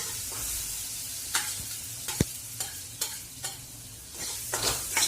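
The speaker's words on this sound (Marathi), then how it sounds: "तेलामध्ये व्यवस्थित परतून घेऊ. व्यवस्थित तेलामध्ये परतून द्यायचा. वाटलेला मिरचीचा कूट टाकला." Ground green chilli paste is stir-fried in oil in a pan, with a soft continuous sizzle broken by a series of sharp spatula scrapes and clicks at an uneven pace, close by and with no voices.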